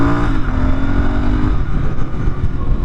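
Royal Enfield Interceptor 650 motorcycle accelerating hard on a test ride, a loud, steady engine roar rising in pitch through the gears, close and continuous with no talking.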